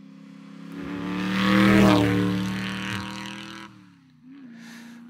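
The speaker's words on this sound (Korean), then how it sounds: "모터사이클 소리도 정말 다양하겠죠, 그죠?" Old Cobra motorcycle engine from a sound effects library, a steady harmonic drone that swells louder toward the middle, dips sharply near the end and then resumes at a lower level.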